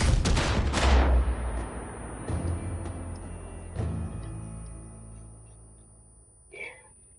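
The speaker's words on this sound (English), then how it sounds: "I heard an explosion, then I heard the explosion of the helicopter" A heavy blast followed by scattered booming gunfire and explosions from the video game Far Cry 5, starting loud and trailing off into fainter reports, with a brief voice near the end.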